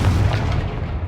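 A Confringo fire spell striking in Hogwarts Legacy, one dense booming blast that rumbles through the whole moment and slowly tails off, loud and close with no voice over it.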